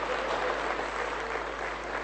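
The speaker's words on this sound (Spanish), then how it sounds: "Aprobado con aplausos." A seated audience at a public meeting breaks into sustained applause to approve a decision, a dense steady patter of many hands clapping together at moderate volume with no voices.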